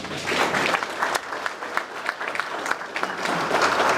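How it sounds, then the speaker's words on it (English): A breakfast crowd at a chamber of commerce business event applauds the sponsor WOW Business, a sustained round of clapping with sharp individual claps standing out near the mic. "Please, a round of applause for WOW."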